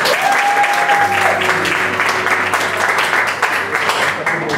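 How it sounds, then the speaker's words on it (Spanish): Loud applause from the crowd at a small bar concert, steady dense clapping up close, with a sustained tone and low hum from the stage gear running beneath it. "Un aplauso para él."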